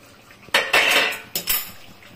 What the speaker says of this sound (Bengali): ঢাকনাটা খুলে দেখি